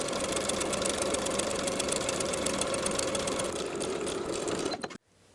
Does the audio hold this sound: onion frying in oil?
no